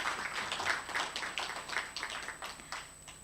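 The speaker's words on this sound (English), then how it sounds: "We can give him a round of applause as he comes up to the stage." Audience applause at a research conference on competition and consumer welfare as a guest speaker walks up to the stage: steady, moderately distant clapping from a crowd, sustained for several seconds without talk.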